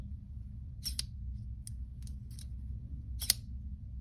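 A few sharp metallic clicks and snaps as a SOG Vision XR flipper knife with a titanium handle flips open, one louder near the end, over a steady low hum.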